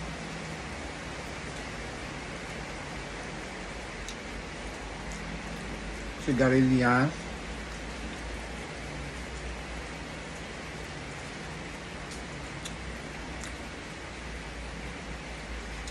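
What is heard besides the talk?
rain getting heavier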